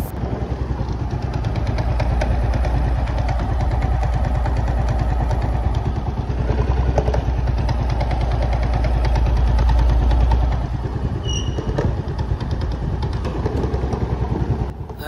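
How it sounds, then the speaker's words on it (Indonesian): A Yamaha Freego scooter idles with a rough, clattering noise from the CVT area and creeps forward at idle, its engine thrumming in a steady close rhythm throughout. "ini ada Yamaha Prigo dengan kendala motor itu jalan sendiri saat posisi langsam dan bunyi kasar di bagian area SPT"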